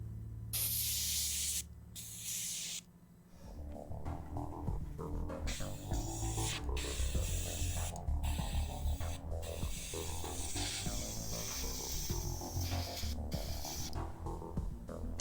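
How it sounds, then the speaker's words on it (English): An airbrush sprays paint in close, steady hissing bursts, starting with a strong blast, then a brief pause, then a longer continuous spray broken by short gaps. "I don't trust that this airbrush is fully clean, but, you know, here we are."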